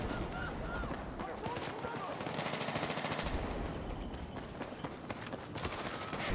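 Rapid automatic SG-55 rifle fire in a Battlefield 6 match, dense repeated bursts running nearly throughout under ongoing speech and busy battlefield noise.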